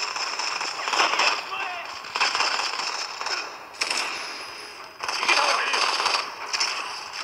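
Gunfire in the mobile shooter Modern Combat 5, loud repeated bursts of automatic fire in several clusters with crackling impacts and game effects, and a voice talking over the shooting.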